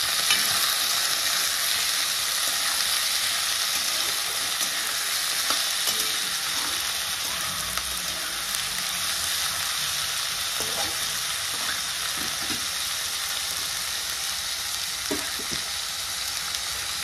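Peeled raw potatoes cooking in hot oil for potato pohe, a steady, even sizzle and crackle that holds unbroken for the whole stretch, close and moderately loud with no voices.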